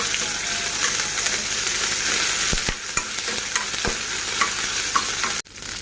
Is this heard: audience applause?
no